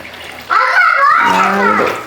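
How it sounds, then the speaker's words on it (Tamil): Water is poured from a cup into a cooking pot for biryani, a near, loud, steady gushing pour lasting about a second and a half before tapering off. "பத்து கப்பு தண்ணி எடுக்க போகிறேன்"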